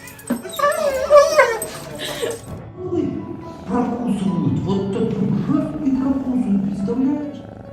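A dog whimpers and yips while reuniting with a returning soldier, its high whines loud and close at first, then lower, continuous vocal sounds that carry on to the end.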